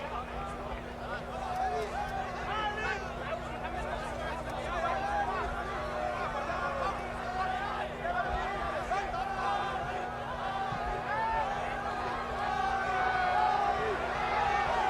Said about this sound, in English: These supporters are getting very excited, a little overexcited as the whole of the mixed crowd here.